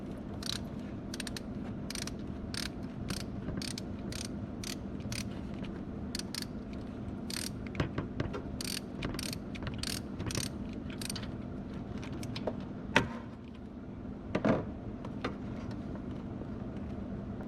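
Sharp, rapid ratchet clicks in repeated bursts while a 14mm top starter bolt is backed out on a 1990s Toyota Tercel, close up over a steady low hum, with a couple of louder knocks near the end.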